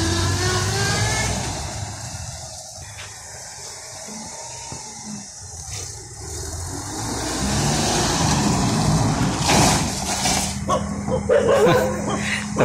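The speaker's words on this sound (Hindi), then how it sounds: "अब गाड़ी को टेस्ट पर्पस से अशोक सर लेके जा रहे हैं और आप देख सकते हैं कि ब्रेक लगने के झटके से ब्रेक लग रहे हैं" A Maruti 800 drives past on a test run after its brakes were bled, its engine rising and falling as it moves nearby. A dog barks at intervals over the motor noise.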